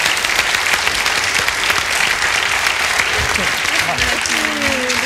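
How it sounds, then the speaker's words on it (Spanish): Loud, sustained applause from a studio audience on a TV game show fills the stretch, with a voice speaking over the clapping near the end. "Fuerte el aplauso, ven"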